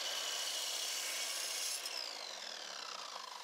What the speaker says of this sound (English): Measure and cut the appropriate sill adapter to length.